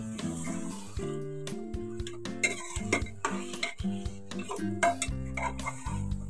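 Mutton being stirred and fried in a pot, with repeated scraping and clinking of a utensil against the metal pot and a steady sizzle underneath, close and fairly quiet.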